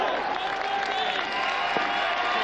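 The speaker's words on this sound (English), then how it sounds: "There's some of the large crowd that's come along this afternoon" A large crowd at a school rugby final at Murrayfield, Preston Lodge against Dundee HS, applauding and cheering steadily in a dense, continuous wash that stays even throughout, with some murmuring voices mixed in.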